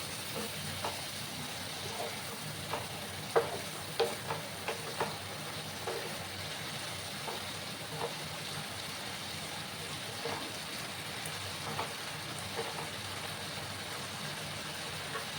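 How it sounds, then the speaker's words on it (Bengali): Potatoes and tomatoes frying in a pan, cooked down together for a shrimp dish: a steady close sizzle with faint stirring scrapes now and then, and no talking over it. "আলুর সাথে টমেটোটাকে ভালো করে আমি কষিয়ে নেব, যাতে করে টমেটোর কাঁচা গন্ধটা চলে যায়।"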